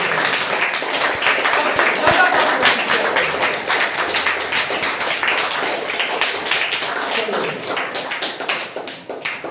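An audience gives a student who topped her exams a long, dense burst of applause, loud and continuous for nearly ten seconds and easing slightly toward the end.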